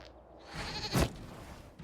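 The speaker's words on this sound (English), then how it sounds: "we discovered this man attacking the building with a" A goat in the video game Dragon Age Inquisition gives a single loud, brief bleat against a quiet background.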